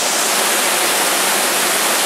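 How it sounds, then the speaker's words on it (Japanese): Waterfall roaring at the base of the falls in a rocky mountain stream gorge, a loud, steady broadband rush of falling water filling the whole clip. "滝つぼの下にやってきました。"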